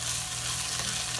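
Browning chicken pieces sizzle and fry in a heat-conducting pot on the stove, a steady, close hiss with light stirring under it and no talking.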